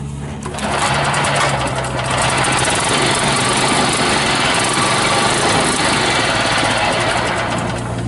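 Engine of a 2013 Toro 23515 core aerator running on a lawn, a loud steady close-up drone with a continuous rattling clatter from the tines that holds unbroken for about eight seconds.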